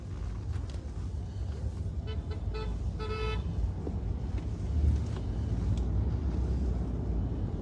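A car horn honks a few short times amid steady road traffic and engine rumble, the toots sounding fairly near over the continuous vehicle noise.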